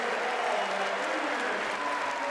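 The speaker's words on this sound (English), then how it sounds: "That was worth waiting for. The crowd explodes." Wrestling arena crowd erupting in sustained cheers and applause after a shoulder pin at an Ohio State versus Oregon State college dual meet, a dense, steady roar filling the whole stretch with no break.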